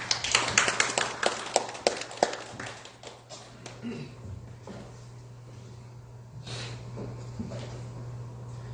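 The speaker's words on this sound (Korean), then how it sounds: "큰 박수 부탁드립니다" An audience applauds the Angel Coin CEO at a Heat Korea meeting, a burst of claps that fades within a few seconds, then a quiet room with a steady low hum.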